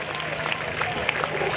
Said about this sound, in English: A big round of applause for all the teams.